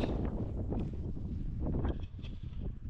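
Strong gale-force wind buffets a coastal campsite with bushes bent by the prevailing gusts, a continuous roaring rumble with microphone wind noise and rustling swells, loud and unbroken, easing slightly near the end.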